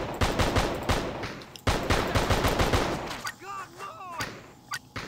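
Rapid automatic gunfire in Just Cause, loud and close, rattling in dense bursts that break off briefly and then resume, before giving way to a quieter stretch with a voice speaking.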